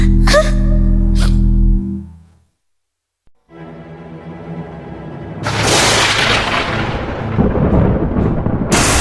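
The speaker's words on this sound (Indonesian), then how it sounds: "Sebuah petir menyambar patung Tori." Lightning strikes a torii statue, and thunder erupts as a sudden loud crack that rolls into a long, heavy rumble. It follows a brief hush after a sharp vocal gasp or cry.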